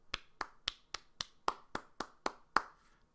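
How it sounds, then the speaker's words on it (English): One person claps their hands nine times in a slow, even rhythm, each clap close and crisp against a quiet room. "That's me clapping."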